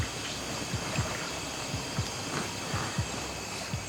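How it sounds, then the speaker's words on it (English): Repeated splashes in dark water at night on a remote island, coming as irregular soft slaps and plops, several in a row, over a steady hiss of moving water. "There's a lot of splashes going on."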